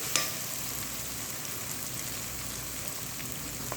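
Chopped green chilies, capsicum and ginger are tempered in hot oil for a restaurant-style white mash daal, making a loud, continuous, close sizzle and crackle throughout.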